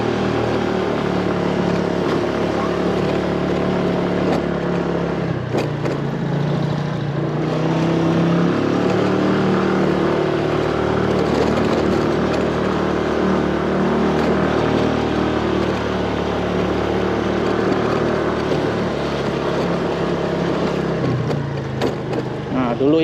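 Petrol motorcycle climbing a steep hill road near a mountain camping ground in Bogor, with a sustained engine drone that rises and eases slightly with throttle, heard close and continuous with wind noise and no clear talk.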